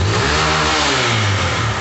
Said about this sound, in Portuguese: Eu vou dar uma aceleradinha nela aqui,